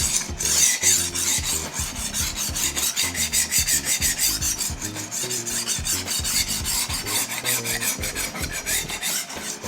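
A chef knife or nakiri is worked back and forth across a diamond sharpening stone while the burr is removed, giving steady, close, rasping strokes in a quick repeated rhythm with no voices.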